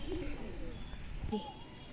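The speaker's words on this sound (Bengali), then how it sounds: "চলেন আর একটা মাদা পায়রা শুধু দেখাবো" A female pigeon coos softly in a couple of low, brief calls, faint against a quiet background murmur.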